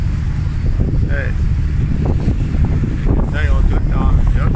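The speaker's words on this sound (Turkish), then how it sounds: "Denizde yolculuk devam ediyor." A boat travels across the sea toward İztuzu beach near Dalyan, Ortaca, Muğla. A steady rumble and gusting wind buffet the microphone throughout, with faint voices now and then in the background.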